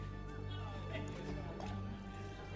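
Horse hooves clip-clop in The Witcher 3 video game, a steady low rhythmic clatter over a constant background bed with game ambience, fairly faint and continuous.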